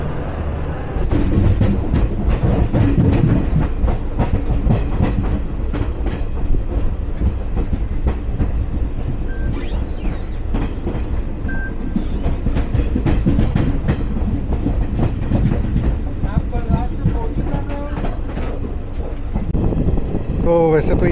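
The Yuva Express passenger train, ICF coaches, departs Mathura Junction with a loud, continuous clickety-clack of wheels on rail joints, heard from on board, with some faint background voices.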